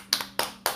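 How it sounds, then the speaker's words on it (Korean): A few hand claps from a church audience celebrating a new believer, three sharp, separate claps close by and fairly quiet, evenly spaced in a brief burst. "박수 쳐주세요."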